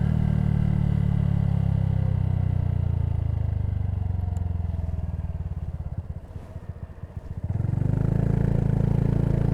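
Honda C125 Super Cub motorcycle fitted with a Yoshimura exhaust, a loud close engine drone that dips and burbles as it downshifts, then rises again to a steady hum.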